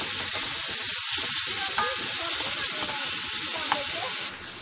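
Chopped tomatoes being stirred as they fry in a pan for a village-style egg and tomato curry: steady sizzling with rhythmic scraping and spoon knocks, easing off slightly at the end.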